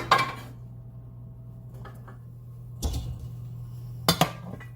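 Cooked rice is scooped out of a pan, giving a few sharp metallic scrapes and clinks of a utensil against the pan, spaced out over a quiet background hum.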